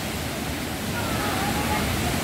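Waterfall in Miguel Pereira, Rio de Janeiro, giving a steady, dense rush of falling water that fills the whole stretch evenly, loud and close with no pauses.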